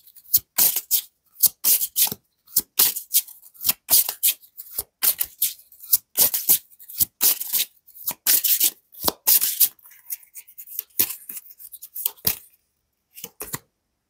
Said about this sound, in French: je commence par prendre une carte avec l'oracle Disney